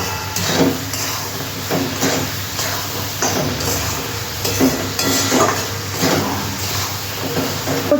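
Green chillies and fried bori are stirred into a prawn curry frying in a pan, giving a steady sizzle with repeated scraping and clanking of a spatula against the pan.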